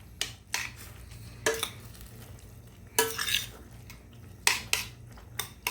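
Metal spoon scraping and clinking against a pot while mashed sardines are stirred with kangkong greens, several short bursts spaced irregularly over a low steady hum, close and moderately loud.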